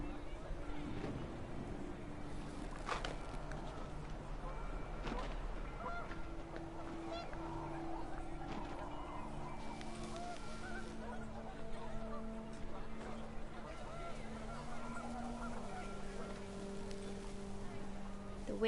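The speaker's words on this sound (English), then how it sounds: "The wind picked up and panicked geese appeared and quickly went." Panicked geese honk repeatedly amid gusting wind in What Remains of Edith Finch, a scattered flurry of calls over a constant windy rumble with a voice speaking.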